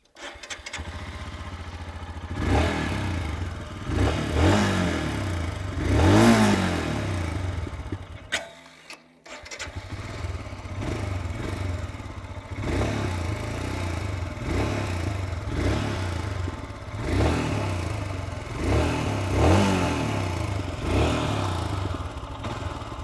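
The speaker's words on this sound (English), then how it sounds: "I'm very sure that you guys would want to know how this motorcycle sounds, and the exhaust is exactly the same as the Himalayan, but I'll still fire it up." A Royal Enfield Scram 411 motorcycle fires up nearby and revs in repeated throttle bursts, dropping briefly to near silence before the single-cylinder exhaust catches again and keeps blipping up and settling back to idle, with no voices.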